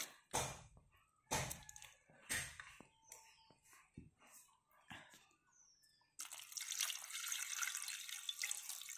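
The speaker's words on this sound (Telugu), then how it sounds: "వాటర్ పోసి ఉడికించుకుందాం।" Water poured into a pot over medium tomato pieces and tamarind for masala tomato rasam: a few sharp clinks and knocks, then a steady, close pouring rush for the last three seconds.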